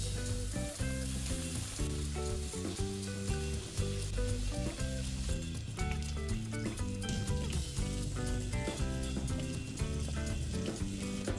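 Pork sizzling on a grill, a continuous frying sizzle laid under steady background music throughout.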